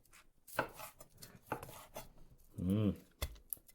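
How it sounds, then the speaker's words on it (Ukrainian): A knife chops roasted chicken thighs on a cutting board in several sharp, uneven chops, with a brief rubbing scrape between them, close up and fairly loud. "Все, нарізаємо хаотично, рубаємо."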